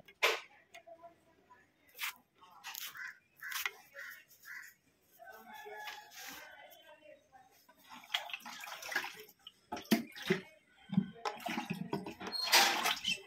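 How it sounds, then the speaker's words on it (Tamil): Water sloshes and splashes in intermittent bursts as a homemade fish tank is washed out and emptied, while a rooster crows in the background. "கழுவி தண்ணி வந்து வெளியே கொட்டிடுங்க."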